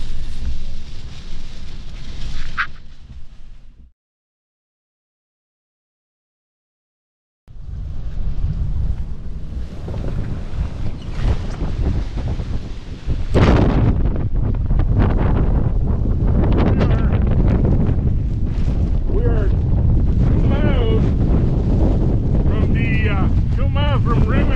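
Strong hurricane winds from Hurricane Hanna buffet the microphone in loud, roaring gusts, briefly cutting to silence before returning even harder and continuing steadily.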